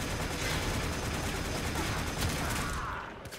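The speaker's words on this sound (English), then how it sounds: "Who's shooting at me?" Gunfire aimed at the player in Warframe: a dense, continuous wash of overlapping shots and noisy crackle, steady and fairly loud throughout, fading slightly at the end.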